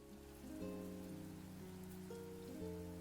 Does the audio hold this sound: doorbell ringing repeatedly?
no